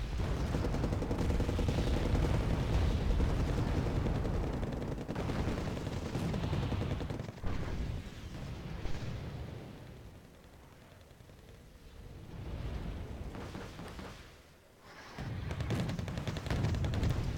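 Dense battle gunfire and explosions from the Wargame: AirLand Battle video game, with ATGMs striking Centurion tanks while T-80Bs fight, a continuous loud din of rumbling blasts and rattling shots that dips briefly before surging again.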